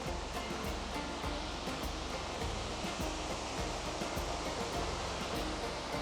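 Constant roaring rush of a waterfall in Iceland's volcanic highlands near the Laki Craters, a dense, even wash of falling water with faint low thumps underneath.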